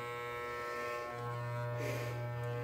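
Electric clippers shave a cat's fur with a constant close buzzing hum that shifts slightly in pitch as the blades work through the coat, steady throughout with no voices.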